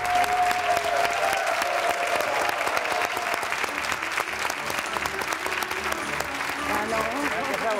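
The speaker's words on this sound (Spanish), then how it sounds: "súper aplauso para ti" A television studio audience bursts into loud, continuous applause that stays strong throughout, with cheering voices and music mixed into the clapping.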